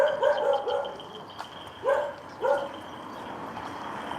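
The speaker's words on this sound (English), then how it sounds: "Oh, what are you barking?" A dog on a back road in Hua Hin, Thailand barks in short bursts, a quick cluster of barks followed by two more spaced barks, moderately close.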